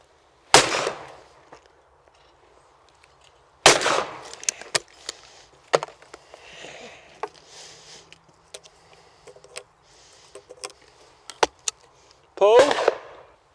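A side-by-side shotgun fires at clay targets outdoors, with three sharp, loud blasts spaced several seconds apart, each followed by a short decay, and faint voices and small clatters in between.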